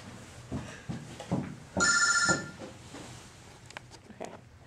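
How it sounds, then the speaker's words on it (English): A telephone bell rings loudly in one short burst, standing out clearly against a quiet room background with faint low murmurs before and after. "Hold on, let me go answer my phone."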